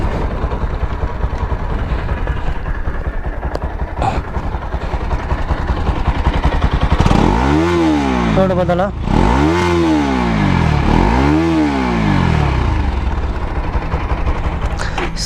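A second-hand motorcycle engine sits in neutral, idling with a steady chug, then revs up and drops back three times in quick succession before settling to idle again. Someone talks over it.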